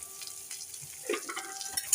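Soft frying sizzle with scraping and clicking as a spatula stirs eggplant with ground neem leaves in a pan, quiet and close, with no speech.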